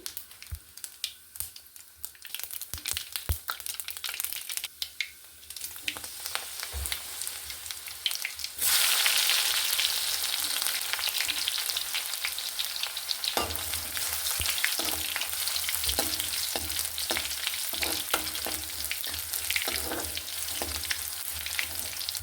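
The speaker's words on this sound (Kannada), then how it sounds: "ಬೆಳ್ಳುಳ್ಳಿ ಮತ್ತು ಒಂದೆರಡು ಒಣಮೆಣಸನ್ನು ಕಟ್ ಮಾಡಿ ಹಾಕ್ಕೊಳ್ತಾ ಇದ್ದೀನಿ" Garlic and dried chilies fry in oil with crackling and scraping, then the sizzle swells suddenly into a loud, steady hiss that continues close by.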